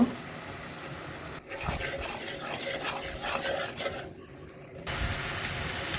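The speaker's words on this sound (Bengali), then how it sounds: "পেঁয়াজ, কাঁচা মরিচ, আদা রসুন ভাজা ভাজা করে হলুদ, মরিচ, ধনিয়া, লবণ দিয়ে ভালো করে কষিয়ে নেব" Onion, green chilli, ginger, garlic, turmeric, chilli, coriander and salt are sautéed and stirred in a pan, with scraping stirs and soft frying hiss, briefly broken by short quiet gaps.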